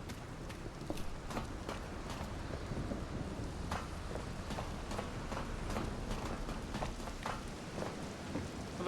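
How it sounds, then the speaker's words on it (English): Steady rain patters throughout a stormy scene in the Project Silverfish game, with scattered sharp crackles and dull thumps over a continuous low rumble, moderately quiet and without voices. "They have like the storm noises as well."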